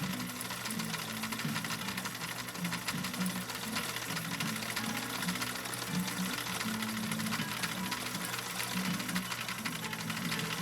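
A 1960 Viking Husqvarna CL-21A sewing machine runs steadily on stitch number 4, a continuous even whirring hum with a fine rhythmic needle clatter, uninterrupted throughout with no talking.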